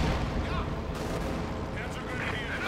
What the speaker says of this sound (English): They got the Sturmpanzer here firing away.